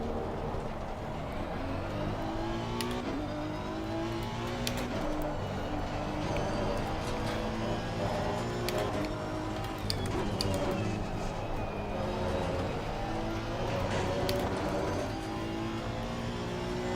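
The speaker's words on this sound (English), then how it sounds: "There's a car exiting pit lane" Race car leaving the pit lane in Assetto Corsa Competizione at Misano, with the engine of a #77 Honda NSX Evo alongside, a steady layered drone of engines with shifting pitch throughout, no talking.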